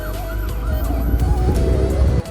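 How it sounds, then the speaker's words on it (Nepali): An ambulance siren wails along a busy street in Bur Dubai, its rising and falling tone riding over steady traffic rumble before cutting off near the end. "मामा एम्बुलेन्स आइसक्यो के"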